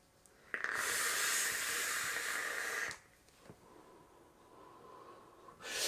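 Exhaled vapour cloud from an e-cigarette fitted with a Bonnie & Clyde atomizer with brass strips: a loud, breathy hiss for a couple of seconds, then a quieter rush and a short final puff.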